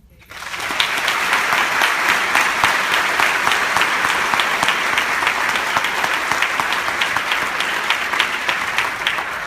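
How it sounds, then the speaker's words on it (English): A large audience at a speech event for first-year teachers bursts into sustained applause that swells quickly and stays full and even for several seconds, a broad wash of many hands clapping. "Let's bring them out here for another round of applause, please."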